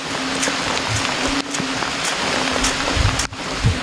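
Rain falls steadily outdoors as a dense, even hiss, with a faint low hum and a few soft knocks underneath, close and fairly loud with no voices.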